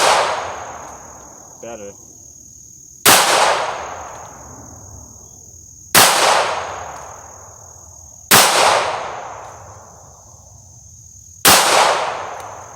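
Five sharp, loud pistol shots from an S&W Bodyguard 380 with a heavy double-action trigger, spaced a few seconds apart, each with a decaying echo, plus a steady high whine and a brief spoken word in between.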